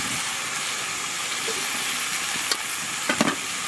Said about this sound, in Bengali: মাংসটাকে ভালো করে নেড়ে দিতে হবে যাতে নিচে না লেগে যায়।